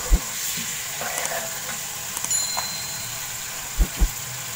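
Raw chicken pieces go slowly into a hot pan for a homemade dhaba-style chicken masala, giving a steady frying hiss broken by a few soft knocks and thumps from the pan.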